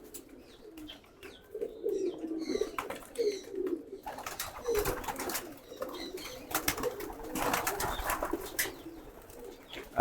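Pigeons coo in low, repeated murmurs close by, overlapping throughout, with occasional wing flaps and faint chirps in the background.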